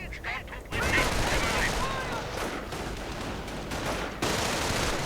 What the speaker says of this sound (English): but getting stopped by the MG.